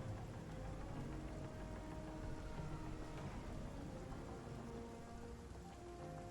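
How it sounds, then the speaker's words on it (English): Steady rain falls in the video game Surviving Mars, an even, soft patter of drops that continues without a break at low volume. "It's raining, everyone. You're getting wet."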